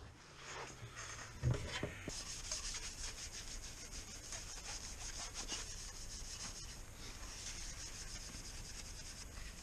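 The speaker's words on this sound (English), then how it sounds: "I'm just going to take and just gently rub, gently wipe this whole thing down" An ultra fine Brillo-type pad rubs gently over a Savage M-93/R17 .17 HMR rifle stock, giving faint continuous scratchy rubbing strokes with one brief louder bump near the start.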